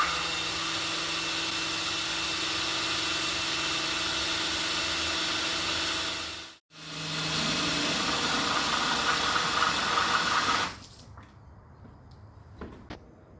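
A TRUPOW drill pump on speed setting 2 moving water, a loud continuous whirring drone that cuts out briefly midway, restarts, then stops near the end, leaving faint quiet.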